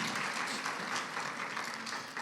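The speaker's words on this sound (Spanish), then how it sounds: "Un aplauso a los de audio, ¿estás de acuerdo?" Faint applause from a church audience, a soft wash of clapping heard at a distance and fading slightly at the end.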